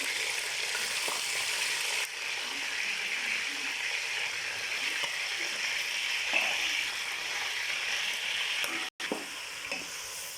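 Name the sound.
chicken frying in pan for korma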